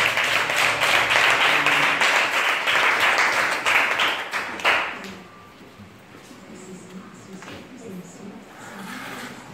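Audience at a visit to an orphanage in Divo clapping and cheering loudly for about five seconds, then fading to scattered claps and murmured voices.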